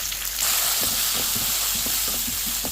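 Onions and tomato masala fry in a pan for a baby potato and mushroom biryani, giving a dense, steady sizzling hiss with soft stirring clicks and scrapes throughout, close and without talk.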